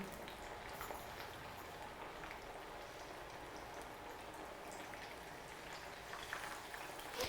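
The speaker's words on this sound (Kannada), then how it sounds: "ಈಗ ಮೀಡಿಯಂ ಫ್ಲೇಮಲ್ಲಿ ಅದನ್ನು ಬ್ರೌನ್ ಕಲರ್ ಆಗಿ ಹುರ್ಕೋಬೇಕಾ ಎರಡು ಕಡೆನೂ ತಿರುಗಿಸಿ ಹಾಕಿ ಕರಿಬೇಕು" Avarekalu kodubale rings frying in hot oil over a medium flame, giving a faint, steady bubbling hiss and crackle that continues without pause.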